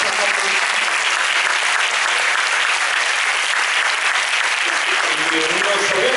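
A loud, dense wall of applause from the audience at a Spanish book presentation and author talk, steady and unbroken from start to finish.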